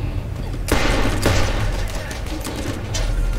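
Gunfire from a weapon being tried out in Borderlands: sharp loud shots crack out at intervals over a steady background of combat noise.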